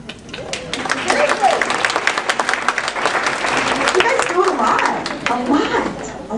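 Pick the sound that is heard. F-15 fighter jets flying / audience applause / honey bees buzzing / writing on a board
audience applause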